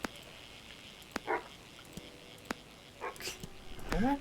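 Short dog barks and a whimpering yip triggered by the bark button in the fishing game Webfishing, a few scattered bursts over quiet game ambience with sharp clicks between them.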